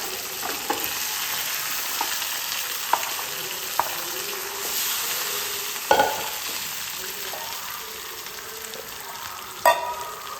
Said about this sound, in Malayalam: കരിയേപ്പില ഇട്ട് കൊടുക്കുന്നുണ്ട് പിന്നീട് നമ്മളിത് വേവിച്ച ചക്ക ഇട്ട് കൊടുക്കാം